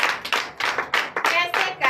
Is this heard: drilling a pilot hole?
no